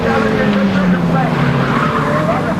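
Racing cars at the 1990 Phoenix Park Motor Races in Dublin roar steadily past with engines at high revs and tires squealing, while a commentator talks over the din.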